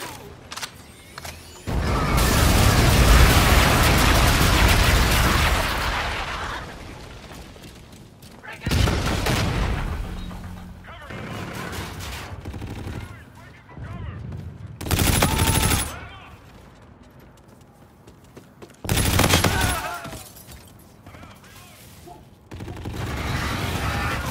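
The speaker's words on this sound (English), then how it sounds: "Enemy bombardment incoming." Video-game enemy bombardment with rumbling explosions and rattling gunfire in repeated loud bursts, dense and booming at first and then coming in waves with quieter gaps between.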